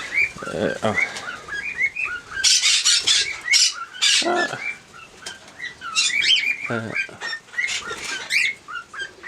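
Parrots in an aviary give loud, repeated squawks and shrill calls, one burst after another, with a few quieter whistles between them.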